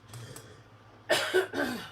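A few harsh coughs close by, a short burst followed by two more, after a quiet stretch.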